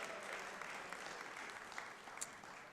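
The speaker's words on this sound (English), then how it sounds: "give her a round of applause" Steady, fairly faint applause filling a Georgia Senate chamber for a National Teacher of the Year finalist, an even wash of many hands clapping with no break across the short stretch.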